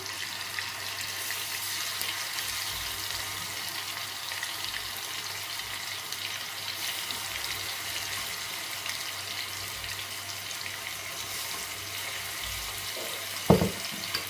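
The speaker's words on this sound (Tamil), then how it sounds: "இந்த சிக்கனை எடுத்து இதில் போட்டுக்கொள்ளுறேன் கொஞ்சம் கொஞ்சமாக போட்டு நாங்கள் இதை பொறித்தெடுப்போம்" Chicken pieces deep frying in hot oil for devilled chicken, a steady dense bubbling hiss throughout with one brief knock near the end, no talking.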